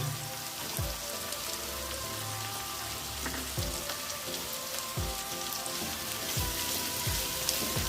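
Capsicum and onion frying in a pan, a steady crackling sizzle like rain on a surface running throughout, with faint repeated stirring taps underneath and no talking.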